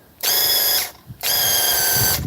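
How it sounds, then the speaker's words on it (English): A faulty spray gun fires two loud bursts, a short one and then a longer one, each a harsh, whining mechanical buzz, separated by a brief quiet gap. "Let me spray it in the spot."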